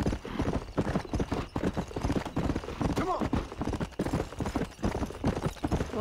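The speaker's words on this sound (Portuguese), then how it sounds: "Olha que legal, tem um cavalo selvagem." Wild horse hooves clip-clop in a rapid, steady rhythm in Red Dead Redemption on Xbox One, close and clear, with a brief whinny and someone talking over the gameplay.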